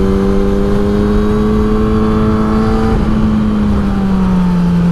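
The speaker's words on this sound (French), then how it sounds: "Ah, il y a un bon frein moteur aussi." A 2017 Kawasaki ZX10R sportbike engine braking with the throttle closed, a loud, steady, close engine drone whose pitch sinks gradually as the bike slows, with no talking.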